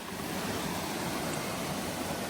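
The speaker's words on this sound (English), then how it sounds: "That does look happy, doesn't it? It's just burbling away through the trees." Happy Creek burbling through trees along the North Cascades Scenic Byway, a dense, continuous rush of flowing water, steady and fairly loud with no voices.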